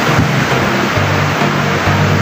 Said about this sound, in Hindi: ये गांव वाले में जाता है बड़ी बड़ी तेज स्पीड में ये जाता है, आप इसकी आवाज़ से अंदाज़ा लगा सकते हैं